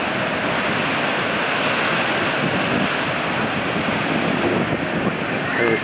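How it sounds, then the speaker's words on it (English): Ocean surf at Santa Monica Pier washes in as a steady, loud roar of breaking waves, with wind buffeting the microphone throughout and no voices. "Get the waves."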